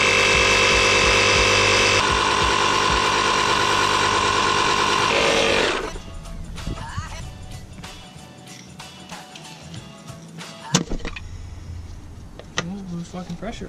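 A 12-volt portable air compressor runs loud and steady for about six seconds with a dense buzzing drone, then stops, leaving quieter clicks, a sharp knock and faint voices around a Volkswagen GTI.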